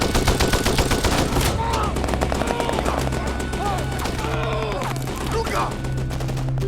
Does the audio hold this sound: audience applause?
no